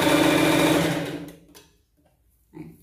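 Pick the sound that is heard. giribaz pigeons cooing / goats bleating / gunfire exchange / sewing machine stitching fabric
sewing machine stitching fabric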